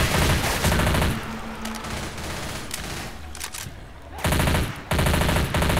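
Rapid automatic gunfire from the zombie shooter Left 4 Dead comes in loud, dense bursts at the start and again near the end, with a quieter stretch of game noise in between.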